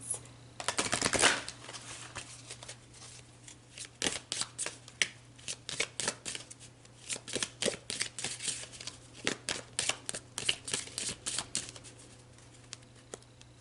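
Tarot cards riffled and shuffled by hand in a quiet room, a dense flurry of crisp card flutters near the start followed by many irregular slaps and riffles, close and fairly loud with no talking.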